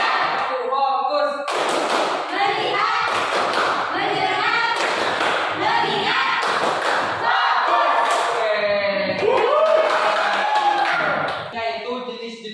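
A school class chants along while clapping in rhythmic counted patterns led by a teacher, loud bursts of hands and voices alternating in a steady classroom routine.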